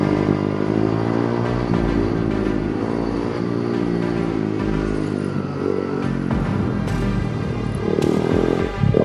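Sport motorcycles lapping a race track, a loud, close engine whine climbing and falling through the gears with shifts and throttle changes, continuous for about nine seconds without talk.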